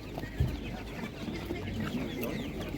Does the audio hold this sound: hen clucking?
yes